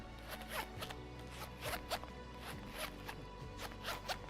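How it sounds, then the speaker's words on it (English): Zipper on a red leather bag zipped back and forth in quick repeated pulls, close and soft, with a faint background hum. "I love that zipper on it."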